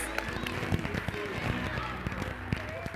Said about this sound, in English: Let's give a big round of applause to all of our brides.